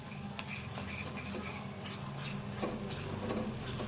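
A spoon stirs ginger garlic paste into an onion mixture frying in a pan for onion egg fry, giving a steady close scraping and sizzle throughout.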